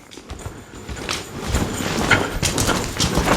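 A ridden horse, being introduced to a racquet for the first time, moves along with soft, irregular hoof thuds growing slightly louder over a few seconds, with no voices.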